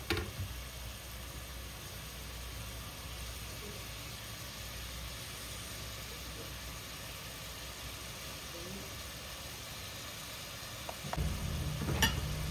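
Vegetables sauté in a hot pan at home while lunch is cooked, giving a steady, moderate sizzle that runs throughout, with a spatula scraping and clattering near the end.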